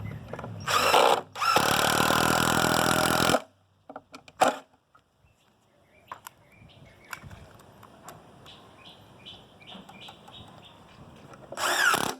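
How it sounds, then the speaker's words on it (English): A power drill drives screws into wood on a construction job, with a short whine followed by a longer sustained loud burst, then a final burst at the end, separated by quieter thuds and background sounds. "So we're going to go ahead and attach our screws."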